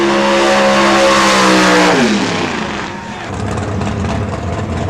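A Super Stock drag race car at Norwalk Raceway Park screams under heavy throttle, its loud engine tone climbing then dropping sharply as it shifts, followed by a rough, sustained roar farther down the strip, with faint voices mixed in.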